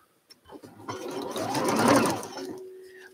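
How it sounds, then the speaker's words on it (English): A sewing machine stitches quilt pieces in a short run, its motor whirring up to a fast buzzing peak and then slowing to a stop, close and alone after a couple of faint clicks. "So I'll flip this over on top and go and sew it."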